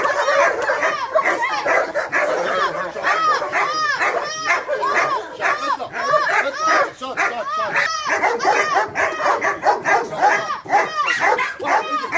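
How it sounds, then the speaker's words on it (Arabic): Dozens of dogs released together to eat bark, yip and whimper in a loud, overlapping chorus that continues without pause, with some voices close and others farther off. "ازاي بنطلق الكلاب كلها في دفعه واحده وبياكلوا مع بعض وما بيتعاركوش مع بعض"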